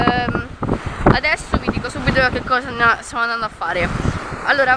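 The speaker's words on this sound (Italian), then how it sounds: "c'è un problemino, che ci sta un vento pazzesco, quindi tipo si sentirà un casino nell'audio" Strong seaside wind buffets the microphone by a choppy sea, a rough, rumbling roar running throughout while someone talks over it.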